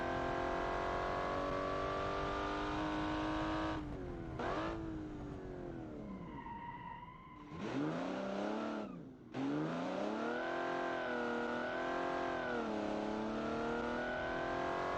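A Gordini T23S race car engine driven in the video game BeamNG, revving hard with rising and falling pitch through gear changes, a brief lift around a corner, then pulling strongly again, loud and close with no talk.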